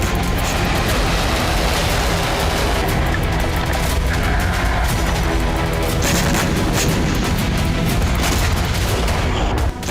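Iranian air defense fire and explosions over the night sky come as a dense, continuous barrage of booms and crackling gunfire, loud and unbroken throughout.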